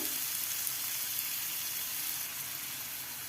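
Sliced onions and baby bitter gourds fry in a pan with a steady, even sizzle that continues without pause and with no voices over it.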